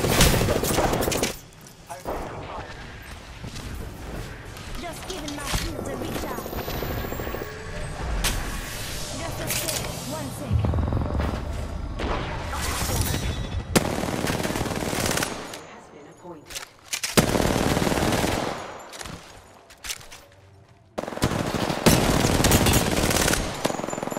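Rapid automatic gunfire in the shooter game Apex Legends, long loud bursts of shots with brief pauses between volleys and short voice callouts mixed in.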